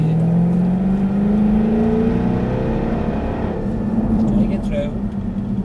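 A Jaguar car's engine accelerating on the throttle, a loud sustained rising drone and whir that climbs in pitch while a voice talks over it.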